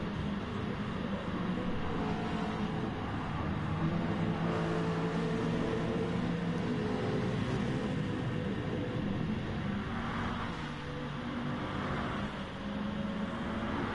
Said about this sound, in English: Look at the train of cars that are coming on this main straight now.